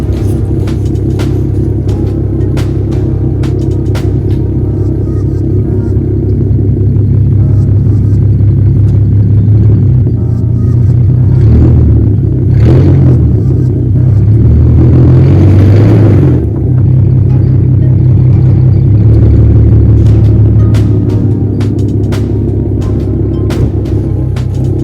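A Nissan 370Z engine rumbles steadily while its wheels spin in deep snow, a loud, low drone that swells in the middle as the revs rise, with no talk over it.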